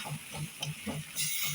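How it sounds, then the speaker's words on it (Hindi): Chopped cabbage and coriander with cumin are fried and stirred in a pan, giving a soft steady sizzle with rhythmic scraping stir strokes, close and moderately quiet. "ज़ीरा डालने के बाद इसमें सारी मैंने चॉप की हुई कैबेज और कोरिएंडर डाला"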